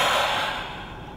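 A single breathy exhale pushed onto a thermochromic-painted Rorschach mask, a soft airy rush close to the ear that fades out within about a second.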